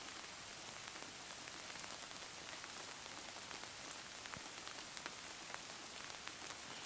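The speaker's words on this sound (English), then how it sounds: "It's pouring rain out." Heavy pouring rain outdoors, a steady dense hiss of drops on surfaces with faint scattered patters, continuous and fairly distant, with no voices.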